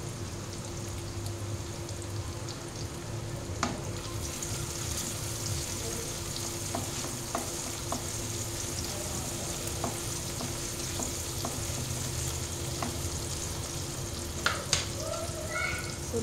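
Onions with masala frying in a pan for a simple dal, a steady soft sizzle with occasional stirring clicks and scrapes, fairly quiet and continuous.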